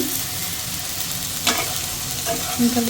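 Okra frying in a pan with salt, turmeric and chili gives off a close, steady sizzle, with a couple of brief scrapes as the pieces are stirred.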